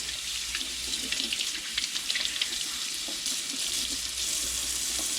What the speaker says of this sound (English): Make sure you're rinsing it in cold water.